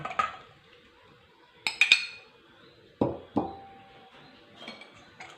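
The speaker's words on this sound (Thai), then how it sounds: "เราก็จะคลุกเคล้าให้เข้ากันค่ะ" A utensil knocks against a bowl while five eggs are mixed with fish sauce and seasoning powder for Thai steamed giant catfish curry: a few sharp, scattered clinks with quiet gaps, close and fairly soft.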